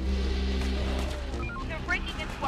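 A car engine drones steadily in the Infection Free Zone video game, rumbling low and continuous under a voice.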